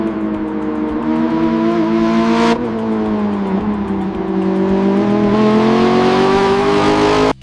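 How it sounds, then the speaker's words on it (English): AI-generated engine sound of vehicles driving through a mud road, a loud, close, sustained engine roar whose pitch rises and falls with revving, broken by an abrupt cut partway through, with no talk. "The sound of the engine matches the visual perfectly and adds so much intensity."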